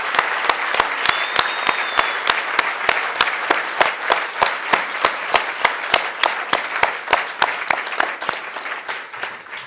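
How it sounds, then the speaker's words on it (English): Sustained applause fills a room at a NASA Curiosity rover mission event, dense clapping with a strong rhythmic pulse of synchronized beats, staying loud before easing slightly at the close. "So please, a round of applause for"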